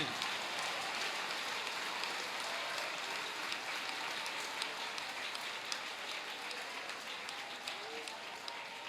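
Church congregation applauding during a service, a dense, continuous patter of many hands clapping at moderate distance with no clear pauses.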